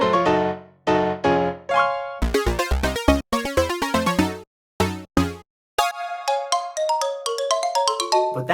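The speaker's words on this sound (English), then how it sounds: "I just threw in the marimba ringtone at the end there" A marimba ringtone plays alone, loud and close: bright mallet-struck notes in quick repeating phrases, with a few brief gaps before a final run.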